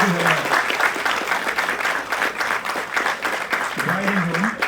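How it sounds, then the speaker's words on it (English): Wedding guests at a ceremony break into sustained applause, a dense steady wash of clapping with a voice talking briefly at the start and again near the end. "Give a round of applause for the brother who was so generous and completed this"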